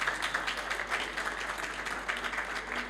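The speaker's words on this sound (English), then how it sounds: "can we please get a round of applause for our speakers?" Audience applause at a COP27 business session, steady clapping from a crowd sustained for a few seconds at moderate distance.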